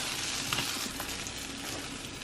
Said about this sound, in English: first you're supposed to go like this and just mix it all together